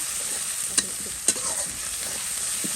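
Green chillies and paste fry in a hot pan with a continuous bright sizzle, broken by two sharp spoon knocks against the pan early on and soft stirring scrapes, close and without talk.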